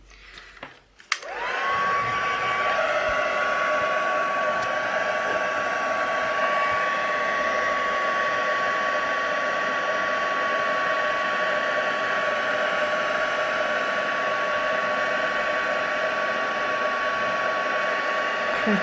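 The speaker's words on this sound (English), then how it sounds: "going in with the heat tool again" A heat tool blows over craft material being melted for a junk journal coin pocket, clicking on and then running as a loud, steady, hair-dryer-like whoosh with a thin whine throughout.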